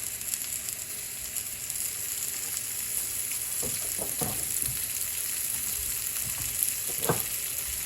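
Onions fry in olive oil in a pan with a steady, close sizzle, broken by a few light utensil clicks and stirs midway and near the end.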